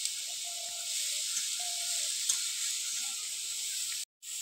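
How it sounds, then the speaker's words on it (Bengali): Broccoli frying in a pan with salt and turmeric gives a steady, even sizzling hiss, close and continuous, with faint background tones and a brief cut near the end. "ভালো করে এবার লবণ হলুদ দিয়ে ভেজে নেব।"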